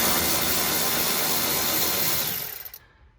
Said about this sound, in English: So I'm gonna go in with my little nut driver here.